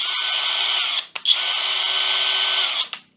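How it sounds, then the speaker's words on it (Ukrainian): Close, loud whine of a Grosser GCD 101KBT cordless drill spinning at its high second speed of 1950 rpm. It runs for about a second, stutters briefly, then runs steadily again before stopping. No one speaks. "друга швидкість 1950 обертів на хвилину."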